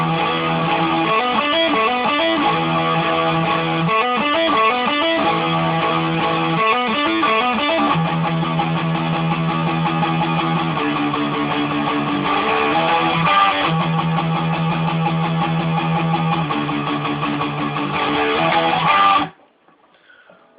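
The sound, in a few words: electric guitar playing the palm-muted verse riff of a song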